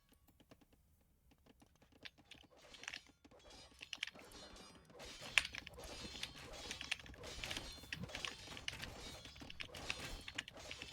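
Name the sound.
clicking of a computer keyboard being typed on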